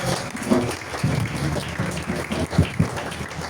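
A church congregation applauding, a steady close wash of many hands clapping together that continues throughout with only brief swells, with faint talk underneath.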